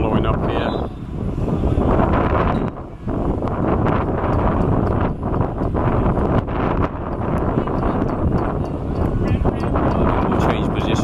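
Strong wind buffets the microphone at an outdoor over-34 men's hockey match in Perth, a loud, continuous roaring rumble with gusty swells, while a commentator talks throughout.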